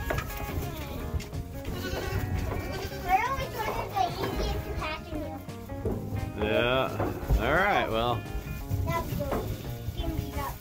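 Goats bleating while being loaded into a trailer, several wavering bleats rising over a busy mix of children's voices and people talking nearby.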